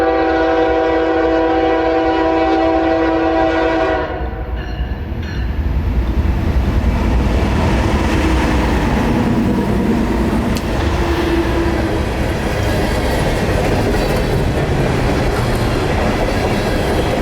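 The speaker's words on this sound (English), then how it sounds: "Norfolk Southern Train 825, as needed empty coal from Lambert's Point in Norfolk, Virginia to Auville," A Norfolk Southern empty coal train rolls past. A sustained multi-tone horn sounds at first, then gives way to a continuous loud rumble and rattle of cars that carries on to the end.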